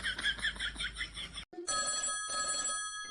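A telephone rings with a warbling electronic trill in quick repeated bursts, then after a brief gap a different steady ringtone tone sounds, both fairly quiet and heard alone.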